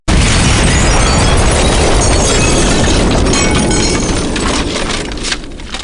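Phaser fire and a big explosion in the parody game Microshaft Winblows 98, a loud, dense, crackling blast that fills the whole clip and slowly thins out toward the end.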